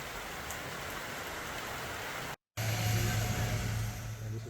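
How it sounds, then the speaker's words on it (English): Tropical monsoon downpour at the busy local airport in Ramashop, Nepal: dense, steady hiss of heavy rain, briefly cut off, then returning with a low engine rumble underneath. "we had to stay there in Ramashop and got a tropical downpour"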